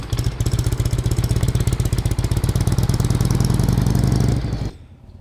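Harley-Davidson motorcycle engine at a rainy campsite, a loud close-up lumpy idle with a rapid steady pulse that runs for several seconds and then cuts off abruptly.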